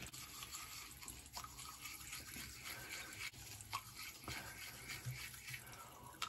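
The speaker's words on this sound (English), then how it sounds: "So the next step is you have to brush your teeth." A toothbrush scrubs teeth coated with deep cleansing toothpaste in a steady, faint, wet bristly scraping, close up, with occasional small clicks and no talking over it.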